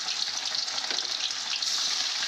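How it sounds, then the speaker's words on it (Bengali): Pieces of bhola fish rubbed with salt and turmeric fry in hot oil, giving a dense, crackling sizzle that stays close and even throughout, with no voices. "এখন আমি ভেজে নিচ্ছি।"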